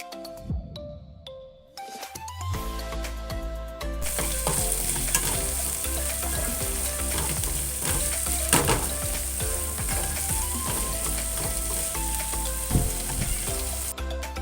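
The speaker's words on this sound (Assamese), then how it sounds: "ইয়াতে মই ব্ৰাহ্মী শাকখিনি দি এইখিনি ভালদৰে লৰাই দিম" Brahmi greens hit hot oil on a tawa with a sudden loud sizzle that settles into a steady frying hiss, broken by scraping stirs. Music plays softly throughout.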